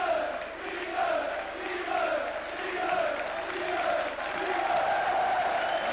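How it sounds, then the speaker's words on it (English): Stadium crowd at a St Helens versus Hull KR rugby league match roars and claps in swelling, sustained waves, a broad distant wash with shouting mixed in. "Phil Beavers receiving rapturous applause here as Saints bring on both of the substitutes now."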